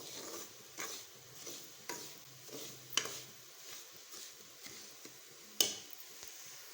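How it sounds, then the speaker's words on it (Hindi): Semolina stir-fried in a pan over low heat, a quiet scraping and stirring with soft rhythmic strokes and occasional sharper clinks of the utensil against the pan, faint sizzling beneath. "सूजी को हम हल्की आंच पे फ्राई करते हैं"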